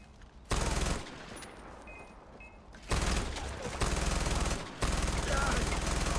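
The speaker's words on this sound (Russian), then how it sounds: "Кайфовый пулемет вообще." Machine gun fire in Far Cry 4: long, loud, rapid bursts that roar continuously, separated by brief lulls of quieter shooting.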